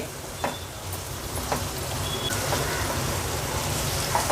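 Suran (elephant foot yam) curry in a yogurt masala sizzling steadily in a pan over a high gas flame, with a few soft stirring scrapes rising from the continuous frying hiss.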